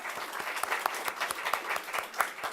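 A small audience gives a modest round of applause for student presenters at a music community panel, sparse, distinct claps in an uneven rhythm, fairly quiet.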